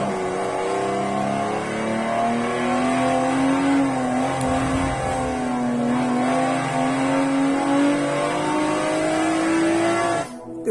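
Car engine in the Forza racing video game, a loud sustained revving drone whose pitch climbs and dips slightly through gear changes, ending with a brief drop and burst near the end; no talk.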